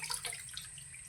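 Tap water runs into a cooking pot in a home kitchen: a brief, faint, splashy stream with no voices over it.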